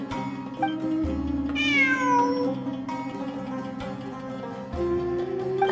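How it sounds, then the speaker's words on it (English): A cat meows in the video game Genshin Impact, a few rising and falling calls set over a steady, busy bed of game music and ambient tones. "I'm not hearing things. It really is a cat."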